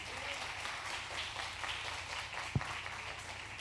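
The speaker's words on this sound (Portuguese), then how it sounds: "Vamos aplaudir o Senhor." A church congregation applauds in a steady, fairly faint wash of clapping that lasts the whole stretch, with one sharper thump near the end.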